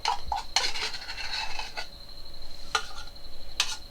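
A knife scrapes condensed milk from a tin: sparse metallic clicks and scrapes, fairly close and quiet, separated by gaps.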